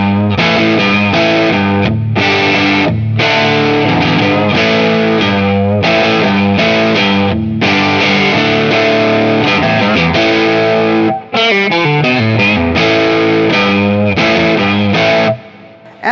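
A Vox Bobcat hollowbody electric guitar on the neck pickup with the tone control wide open plays loud, driven chords and phrases through distortion and effects, briefly dipping into pauses near the end.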